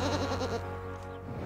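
Goats on a UK goat farm bleat loudly and close up, a sustained wavering call that fills the brief moment over steady background noise.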